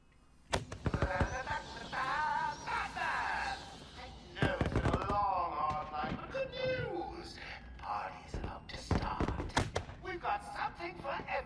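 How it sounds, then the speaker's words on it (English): Fireworks in Batman: Arkham Asylum fill Joker's party area with a string of sharp bangs, crackles and rising whistles. The bursts come in clusters over a steady, busy game soundscape. "And Joker's got unlimited fireworks. They're gonna keep going until we head over there."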